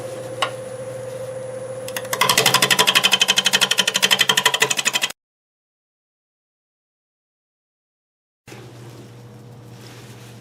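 A wood lathe turns a madrone branch while a tool cuts into it, making a loud, rapid rattling chatter over a steady motor hum, then a long silence before the lathe hum resumes.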